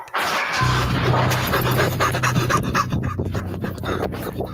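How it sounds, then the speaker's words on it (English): A person fakes fast, rapid panting breaths, loud and close, running steadily for several seconds with dense, rhythmic huffs and no talk over it. "The fake breathing. Fake breathing."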